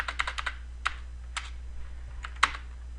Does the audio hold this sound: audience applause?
no